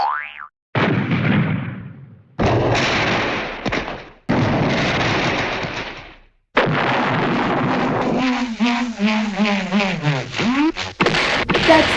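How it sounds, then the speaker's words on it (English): A cartoon explosion effect from the Hanna-Barbera sound library: a series of loud, sharp blasts and rumbling bursts with a springy boing-like warble near the end, no talk. "That's an explosion sound."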